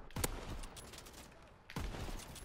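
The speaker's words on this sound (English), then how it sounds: "It's just a shotgun." Two sharp, close shotgun blasts in Call of Duty: WWII, each with a booming tail, the second about a second and a half after the first, over quiet game ambience.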